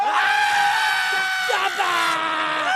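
Actors in a film scene scream together after a startled look skyward, a loud sustained chorus of high-pitched cries with overlapping voices, some wavering and rising, close and filling the whole moment.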